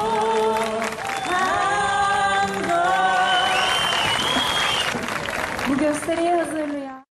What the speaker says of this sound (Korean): 관광객들은 환호성과 박수를 아끼지 않았습니다